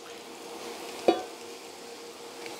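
Mushrooms sautéing in a hot pan for a mushroom risotto, a steady soft sizzle with one sharp clink of a utensil partway through.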